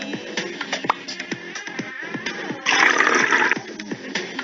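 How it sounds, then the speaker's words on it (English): Water poured from a jug into a glass splashes and gurgles in uneven bursts, with a fuller steady pour in the middle, close up and alone. "Fill it with water."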